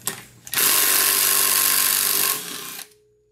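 A power tool spins off the 14 mm flywheel nut on a scooter during a stator repair, one loud, steady burst of about two seconds after a short blip, then winding down.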